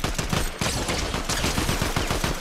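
Rapid video game gunfire, dense and loud, with continuous overlapping shots filling the whole moment.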